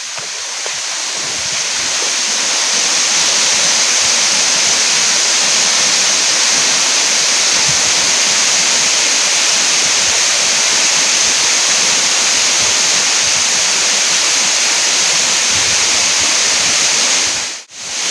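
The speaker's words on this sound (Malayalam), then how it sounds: "നല്ല അടിപൊളി ഒരു 50 അടി പൊക്കത്തുനിന്ന് പാറയുടെ മുകളിൽ നിന്ന് വെള്ളം താഴത്തേക്ക് വരിക." Kallampara Chola waterfall pouring from about fifty feet onto rocks in a rocky former quarry, a steady, loud, dense roar of falling water that holds unbroken throughout.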